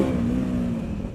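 A KTM 990 SMT motorcycle's engine revving hard as the throttle is yanked in first gear, a loud, close, sustained growl lasting just over a second.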